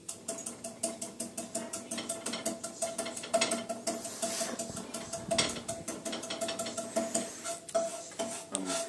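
Food, with onions among the ingredients, being mashed and stirred in a pan in a kitchen: a steady run of quick, light tapping and scraping knocks, close and fairly quiet, with no voices.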